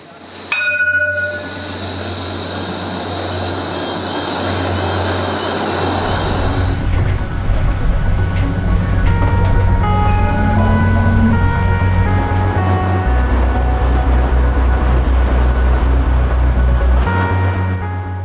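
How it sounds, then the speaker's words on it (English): A Melbourne E-Class low-floor tram rumbles loudly and steadily for close to twenty seconds, with a deep continuous drone and brief high squeals early on, heard from aboard or close by. "We're very blessed in Melbourne to have a lovely low-floor tram like the"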